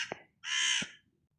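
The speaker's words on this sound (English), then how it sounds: "And the birds are very vocal today." Two harsh crow caws sound fairly close in a quiet cottage garden, one short and one longer and drawn out, with no voices.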